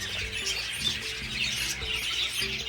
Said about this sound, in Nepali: साथीभाइ चरा पुरा रहेछ हरियो खालको चरा